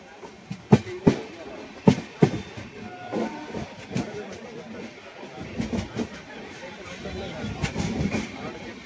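Pragati Express train pulling out of Shivajinagar station in monsoon weather, with sharp metallic clanks and wheel knocks early on giving way to a steady rolling rumble and clatter of the carriages.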